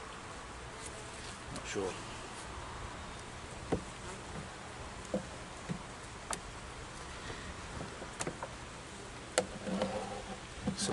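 Honey bees buzz faintly and steadily around an opened hive frame during a spring inspection, with scattered ticks and taps from handling and a voice talking briefly over it.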